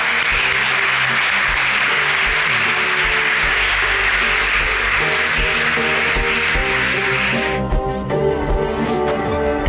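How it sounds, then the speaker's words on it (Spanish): Loud audience applause at a paella competition award ceremony in Meliana, a dense wash of clapping throughout, with the crowd's clapping thinning into separate claps near the end while music plays underneath. "Un aplauso."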